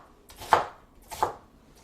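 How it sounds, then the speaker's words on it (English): A knife loosely chops onions on a board for potato leek soup, with two distinct, close thuds about three-quarters of a second apart and near silence around them. "just a real loose chop there on these onions."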